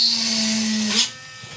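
A Tacklife PCG01B mini rotary tool drills through plastic with a steady, close, high-pitched whine for about a second before spinning down and cutting off, with near silence after.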